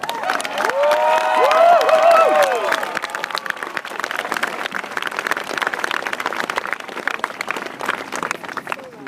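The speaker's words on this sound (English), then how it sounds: "So let's give him a big hand of applause." An audience at an Occupy Boston gathering applauds Noam Chomsky: a broad wash of clapping and crowd noise that swells loudest in the first few seconds, mixed with some cheering tones, then settles into steady, thinner clapping.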